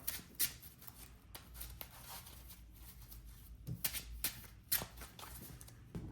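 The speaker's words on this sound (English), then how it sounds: "Let me go ahead and shuffle the deck up." A deck of Yu-Gi-Oh! trading cards is shuffled close by, giving soft riffling bursts and brisk flicks in irregular bursts over a quiet background.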